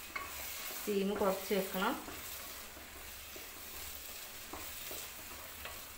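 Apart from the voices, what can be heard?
stirring food in a frying pan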